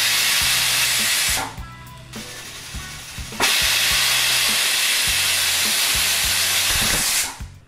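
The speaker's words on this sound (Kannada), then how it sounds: "ಈಗ ಕುಕ್ಕರು 2 ವಿಸಲ್ ಕೂಗಾಯಿತು." A pressure cooker with chicken biryani inside lets off its whistle as loud, close bursts of hissing steam. A long blast breaks for a couple of seconds, then a second long blast follows, with faint low clatter underneath.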